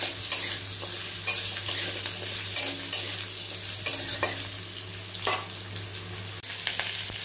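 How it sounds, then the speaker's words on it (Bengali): Potatoes and pointed gourd frying in a pan, a steady sizzle with repeated louder scrapes and stirs at an even rhythm, close and alone. "আলু আর পটল হালকা ফ্রাই করে নিই।"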